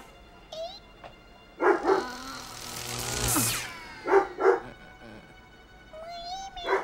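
Dog in a Munch's Oddysee video game session barking a few times, two paired barks then another pair, over a noisy background with a brief whooshing swell between them.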